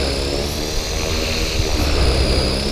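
An HK 450 radio-controlled helicopter's rotor spools up in regular mode: a steady, loud whirring drone with layered engine harmonics that holds level and swells slightly toward the end, with no talking.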